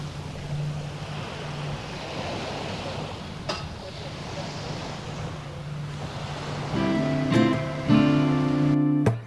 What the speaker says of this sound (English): You can hear the waves crashing against the wall.